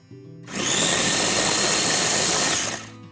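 A small electric grinder purees chipotle chilies in adobo sauce in one loud, steady whirring burst of about two seconds that starts and stops abruptly.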